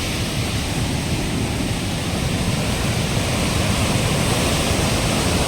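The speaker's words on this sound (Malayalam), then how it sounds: "നേരെ അടുത്തായിട്ടാണ് ഈ വെള്ളച്ചാട്ടം നമുക്ക് കാണാൻ പറ്റുന്നത്." Perunthenaruvi waterfall rushing close by, a loud, dense, unbroken roar of falling water that fills the whole span with no voices.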